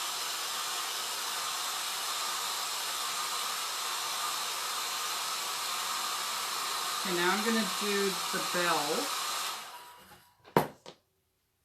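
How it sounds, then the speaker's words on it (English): Hair dryer on its cold setting blowing steadily to dry a chalk transfer, a broad airy roar for about ten seconds that cuts off abruptly, with a voice speaking briefly over the end of the blowing. "you want to use the cold setting on a hairdryer"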